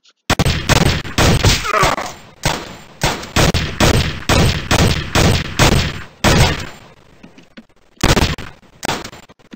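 Rapid, loud video-game gunfire from Gun Mayhem 2 crackles in dense bursts of repeated shots, pausing briefly before a few final shots, with no talking.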